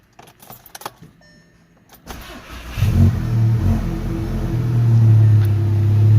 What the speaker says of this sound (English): now we're gonna go start the engine, let it run for a couple minutes